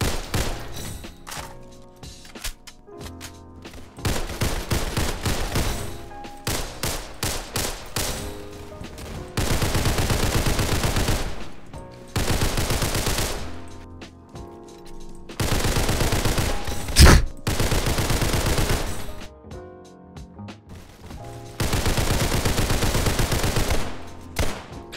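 Repeated bursts of automatic gunfire in the Roblox game Criminality, loud and close, with long sustained strings of rapid shots separated by brief pauses and short single pops, no talking.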